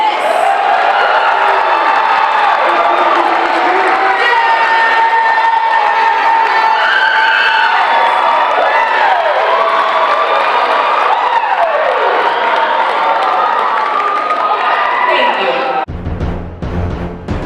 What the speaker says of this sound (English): For 2 hot seconds, can I just get you just to roar in this place and just roar? Give a round of applause. Roar.